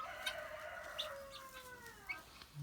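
Calls from a healthy female guinea fowl at a house in Manalapan, New Jersey: a few harsh, descending squawks that carry a short way through open air, with no talking over them.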